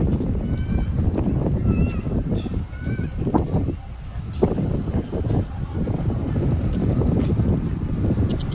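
Continuous engine rumble and rushing water from a motorboat moving at sea off Nainativu, Sri Lanka, with wind buffeting the microphone throughout.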